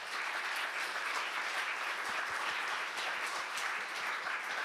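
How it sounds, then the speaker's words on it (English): Audience applause for speakers closing a symposium session on trustworthy data repositories, a steady dense wash of clapping with a few louder close claps standing out near the end. "I hope you give them a big round of applause"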